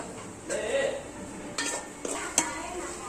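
Chopped chapati pieces being stirred in a pan for kothu chapati, with a utensil scraping and clinking against the metal in a few short bursts amid soft background sizzle.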